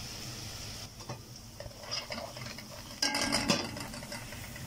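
Soaked, drained rice stirred into softened, wilted onions in a pot, giving a soft sizzle with scraping and clinking of a spoon against the pot, busier and louder toward the end, with no talking.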